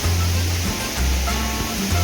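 Steady, loud roar of the Neer waterfall near Rishikesh, a dense continuous rush of falling water that fills the whole clip without a break.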